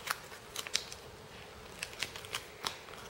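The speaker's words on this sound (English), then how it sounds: "I'm gonna take this edge and fold it along this right here." Sheet of paper being creased and folded by hand while making an origami barn star, a few soft crisp crackles and rustles close by, quiet with no talk.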